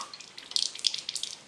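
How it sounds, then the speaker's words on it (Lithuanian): Water poured into a container during a smoking experiment, a brief, quiet trickle of small splashes and drips. "Išpilam vandeniuką"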